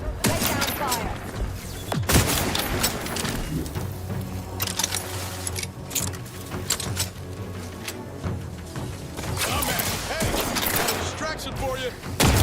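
Gunfire in The Outer Worlds video game: sustained volleys of rapid shots and sharp cracks through a noisy battle, with dense bursts at the start and again near the end, and voices heard in the clip.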